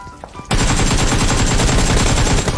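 Loud, rapid automatic gunfire from the battle royale game PUBG Mobile erupts abruptly after a short quiet moment and continues as a dense, steady burst to the end.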